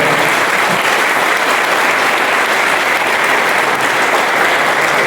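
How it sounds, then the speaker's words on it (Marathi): An audience at a literary discussion event in Nanded breaks into loud, even applause that fills the room without a break and with no talking over it. "एकदा जोरदार टाळ्या आपण वाजवूया"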